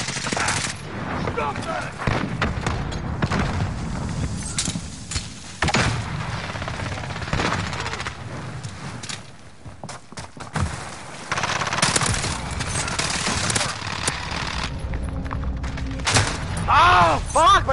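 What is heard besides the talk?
gunfire in video game Call of Duty: Warzone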